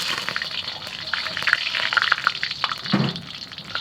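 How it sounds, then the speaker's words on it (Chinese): Pork lard goes into a hot wok while cooking beef brisket, giving a soft, steady hissing sizzle with a few crackles, under a voice. "再把这个荤油下锅"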